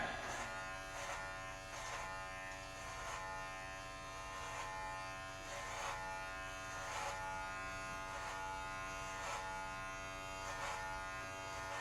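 An electric razor buzzes steadily and close during a self-haircut, its hum rising in regular bright pulses about every second as it passes through hair, with no talking.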